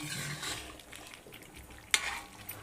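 About three kilograms of marinated chicken chaap being stirred and sautéed in a large wok, sizzling under scraping spatula strokes, with one sharp metallic clank near the end.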